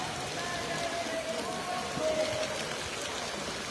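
Steady rain falling on an outdoor RSS shakha gathering in Halvad, a continuous even hiss of drops on surfaces, moderately faint, with no distinct voices.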